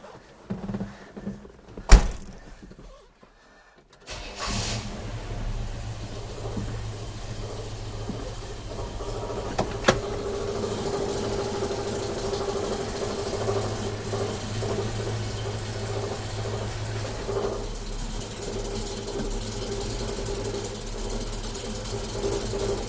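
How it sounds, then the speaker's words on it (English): A 1968 Chevy El Camino being started: a door thud and clunks, a brief pause, then the engine catches and idles in a steady low rumble for the rest of the clip, with no talking. "I'm going to jump in the car, start it up, put it in gear"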